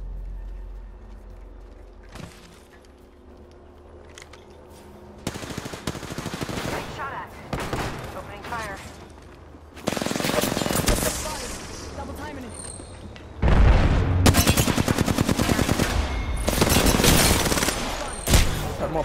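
Bursts of automatic gunfire in Apex Legends start and stop several times, growing louder and denser toward the end, with squad voices calling out between shots.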